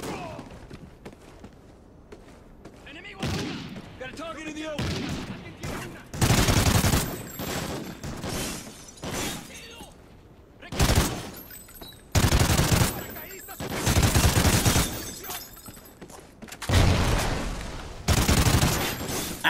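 Bursts of automatic gunfire in Call of Duty Ghosts single-player combat, loud broadband volleys repeating every few seconds with heavy thuds between them, with a voice talking during the firefight.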